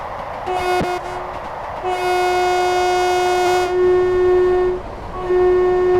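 An express diesel train in Train Sim World 4 runs through a village, with loud, close horn blasts of varying length over a constant rumbling engine drone.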